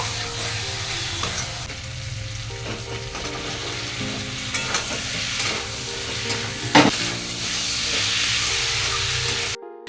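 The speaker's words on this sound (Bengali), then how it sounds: "বন্ধুরা একটু হলুদ দিয়ে দিয়েছি দিয়ে একসঙ্গে এবার কষিয়ে নেব" Fish curry masala with turmeric, for a dish of potato, eggplant and fried tengra fish, sautéing in a pan: a dense, loud, continuous sizzle up close, with scattered stirring scrapes and a brief clatter near the end.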